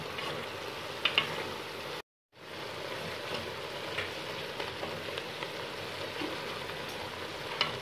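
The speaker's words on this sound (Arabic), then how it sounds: "خليه دابا يتقلى. انا كنحركو دابا" Meat frying in ghee while being stirred for a Moroccan meat-with-prunes dish, producing a steady, rain-like sizzle close by that drops out briefly, then resumes with occasional clinks of the spoon.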